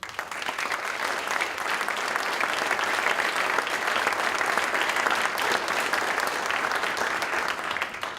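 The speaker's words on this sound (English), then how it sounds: "I think they deserve a round of applause" Steady, dense audience applause at a community salute event, honoring volunteers and committee members, with many hands clapping continuously throughout and no talking over it.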